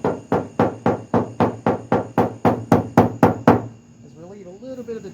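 A body hammer wrapped in Gorilla Tape taps repeatedly on a caved-in car roof, about a dozen even, muted knocks in quick rhythm that then stop, followed by a faint voice.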